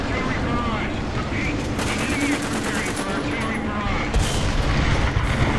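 Tanks exchange gunfire in the War Thunder video game, with a continuous loud rumble of shots and booms across the whole stretch, dense and unbroken.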